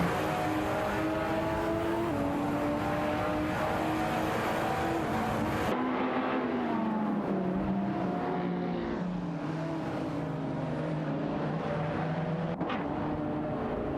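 Game engines of a Lamborghini Murcielago SV and a BMW 3.0 CSL homage racing in a video game, loud sustained howling revs that shift pitch with gear changes, a sudden drop partway through, continuous with no talk.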